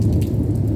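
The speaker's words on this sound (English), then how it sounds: "Lightning, thunder rumbling, humid, not a breath of wind." Low, continuous rumble of thunder in a humid storm in Mazatlan, heavy and close, with a wash of rain noise over it and no voices.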